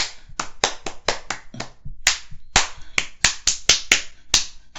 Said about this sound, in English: what you double clapping doing?